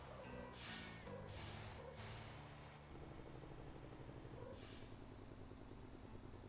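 A truck's Jake brake in the video game Motor Town: a low, harsh, stuttering engine-brake rattle, fairly faint, broken by several short hissing air bursts.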